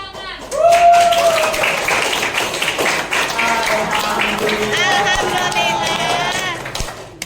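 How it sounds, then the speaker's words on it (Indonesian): A group claps hands together in a classroom, a lively burst of clapping that starts after a brief pause and continues steadily, mixed with voices and tonal sounds in the background. "Kemudian tepuk tangan."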